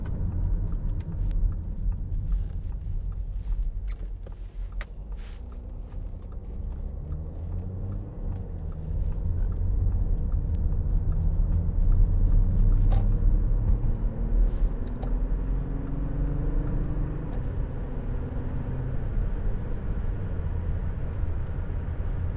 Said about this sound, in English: Silky smooth gear change there.